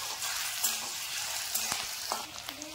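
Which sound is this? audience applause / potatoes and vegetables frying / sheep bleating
potatoes and vegetables frying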